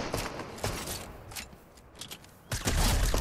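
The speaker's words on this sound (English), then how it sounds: "Other team shooting at him." Gunfire from the opposing team in the video game Fortnite, a few separate bursts of shots spread across the moment, with a louder, denser burst near the end.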